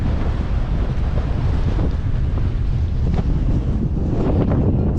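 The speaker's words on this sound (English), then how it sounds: "Super windy today" Strong wind roars across a boat in a steady, close buffeting rush that batters the microphone, with faint creaks and knocks beneath and no voices.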